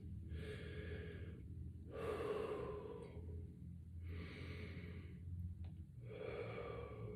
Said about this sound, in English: we're going to take in a couple of deep breaths.